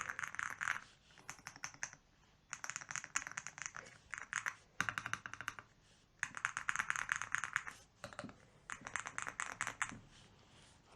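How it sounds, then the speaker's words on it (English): Typing on a 3D-printable MelGeek MADE68 gaming keyboard with a five-layer sound-dampening gasket mount: close, crisp bursts of rapid keystrokes separated by short pauses. "The acoustic profile of this keyboard is fantastic"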